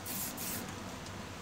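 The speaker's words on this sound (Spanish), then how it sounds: "echando el aerosol normal." Aerosol can spraying soundproofing and waterproofing coating onto a car body, a close continuous hiss with short bursts near the start, no voices.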